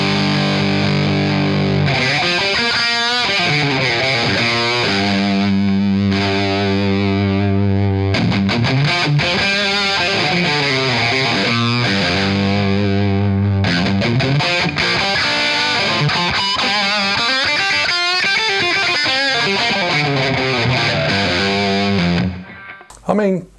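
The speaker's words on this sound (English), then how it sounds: "let's see what it sounds like through the Marshall" A PRS SE Zach Myers electric guitar played through a Dark Mouse distortion pedal into a Marshall amp, loud and continuous for over twenty seconds, with sustained distorted chords and riffs that stop abruptly at the end.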